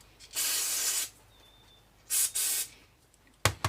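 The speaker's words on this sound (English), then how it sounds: "Spray it down with some carburetor cleaner, and I'm going to stick it back in." Carburetor cleaner sprayed from an aerosol can onto the carburetor parts of a Honda XR/CRF dirt bike, heard as two long, close hissing bursts and a short sputtering spurt at the end, with quiet pauses in between.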